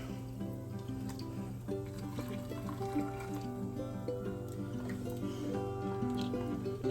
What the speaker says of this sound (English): All right, we'll fill the rest with water.